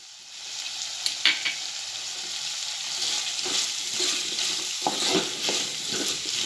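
Turmeric being stirred into a pan over low heat while preparing a Konkani methi bhaji with bombil and dal, a steady soft sizzle with scraping spoon strokes and a few sharper clinks near the start.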